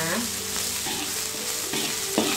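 Green beans sautéing in a pan for a bean omelette, a loud continuous sizzle with occasional stirring scrapes, close and without talking.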